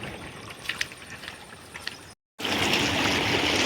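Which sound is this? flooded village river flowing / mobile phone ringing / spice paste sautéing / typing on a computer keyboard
flooded village river flowing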